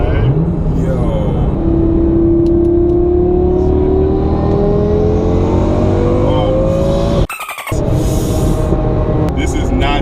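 A Mercedes C300 engine revs hard and close, its note climbing steadily in pitch as it accelerates, with a brief cut-out near the end before the roar resumes.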